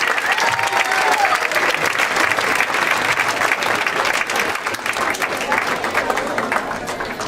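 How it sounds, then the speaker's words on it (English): Sustained applause from a closing-ceremony audience honoring high school and middle school students, a dense, steady wash of many hands clapping for several seconds with faint crowd murmur underneath. "Let's give one more nice round of applause to all of our students, high schoolers, middle schoolers."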